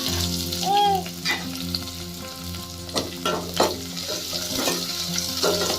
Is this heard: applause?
no